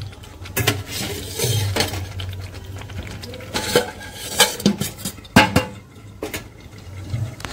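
A metal pot lid is lifted and handled while chicken curry cooks, with sharp clanks and clinks spread irregularly across the clip, some louder, close and alone without talking.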